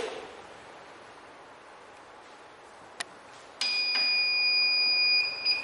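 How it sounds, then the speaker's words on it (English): A physiotherapy machine switching off: a quiet hum, a sharp click, then a sustained high electronic beep that holds steady for about two seconds before cutting off. "A long beep sound should be come when the system is off."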